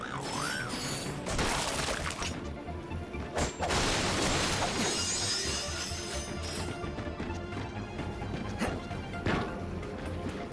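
Ratchet & Clank gameplay: a wrench is thrown at a hard-shelled enemy, producing repeated clanging impacts and crashes layered over busy game music and effects.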